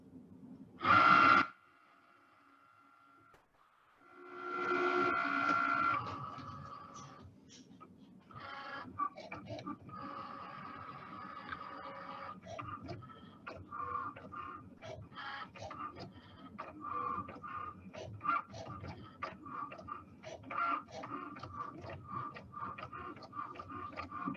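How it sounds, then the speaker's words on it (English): A Cricut cutting machine working on standard vinyl: a short loud beep opens, then a motor whir, followed by a long run of rapid ticking, clicking carriage movements and soft whines as the blade cuts, close and fairly quiet. "I can load it into the machine. It makes sure it's all lined up, and then I tell it to go."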